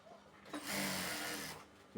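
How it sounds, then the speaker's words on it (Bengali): Sewing machine stitching elastic onto lace while making palazzo trousers, a steady motor whir of about one second that starts and stops cleanly, close and fairly loud. "আবার একটু সেলাই দিয়ে আবার রাবার টান দিয়ে বাইর করে নিয়ে আসেন"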